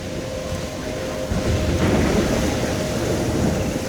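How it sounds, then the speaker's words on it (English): A thunderstorm in the video game Life is Strange rumbles as a dense, steady roar of rain and low thunder that swells slightly midway, with no voices. "I'm trapped in a storm?"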